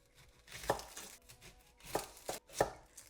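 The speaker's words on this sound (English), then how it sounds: "I'm going to start the filling by just chopping up a couple of onions as finely as you can." Onions being chopped finely on a cutting board for a paneer kathi roll filling, three distinct knife strikes spaced unevenly, close and moderately loud with quiet kitchen room tone between.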